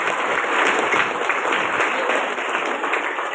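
An audience at a dance school anniversary event applauds the dance artists, a dense steady roar of clapping sustained throughout.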